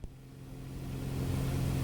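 A small airplane's piston engine drones steadily in cruise flight, a constant hum with a low tonal buzz that grows slightly louder, with no voices.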